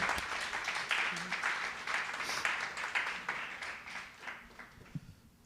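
An audience at a book event applauds the two speakers with dense, lively clapping that stays loud for several seconds before thinning out near the end.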